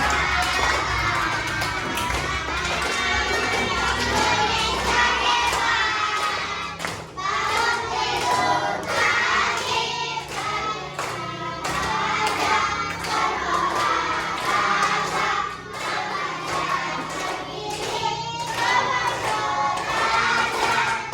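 A classroom of children sings loudly together while clapping their hands in rhythm along with a song, lively and continuous throughout.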